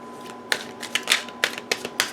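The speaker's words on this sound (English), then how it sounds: "I'm going to start by shuffling the divination cards" Tarot divination cards being shuffled by hand, a run of crisp riffling snaps and flutters in uneven bursts, close and fairly quiet, with no voices.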